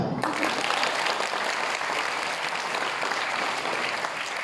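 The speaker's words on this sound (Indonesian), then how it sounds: "Tepuk tangan Pak" Steady applause from an audience at a school Maulid Nabi gathering, dense and sustained for the whole stretch at an even, fairly loud level with no clear voices over it.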